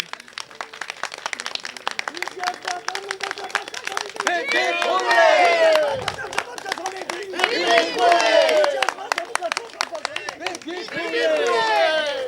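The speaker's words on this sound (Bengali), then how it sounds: "তাদের সবাইকে বলবো একটু নিজেদের জন্য সবাই একটা জোরে হাত তালি দিন" A crowd at an Annapurna Puja prize ceremony claps in quick, dense bursts that swell and fade, while excited voices and cheers rise over the clapping.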